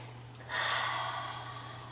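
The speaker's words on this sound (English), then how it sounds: "Take a deep breath." A single deep, audible breath taken through the nose during a yoga hamstring stretch, close and clear, swelling suddenly and then easing off over a low steady hum.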